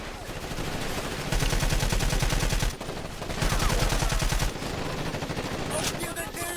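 Automatic weapons fire in Ghost Recon Advanced Warfighter rattles in sustained rapid bursts, loud and near, with brief pauses between volleys and a faint voice underneath.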